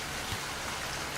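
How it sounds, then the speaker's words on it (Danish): Steady rain falling outdoors, a dense, even hiss of drops with no talk over it. "Det regner, og det er koldt."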